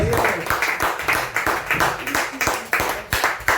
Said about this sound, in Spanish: Una palmada de aplausos